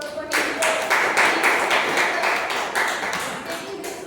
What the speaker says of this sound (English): I would like everyone to give a big round of applause for him